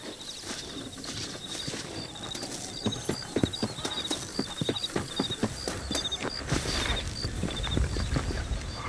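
Horse hooves clip-clopping in a steady walking rhythm in the video game Red Dead Redemption, faint and even over several seconds, with light metallic jingles and no talk.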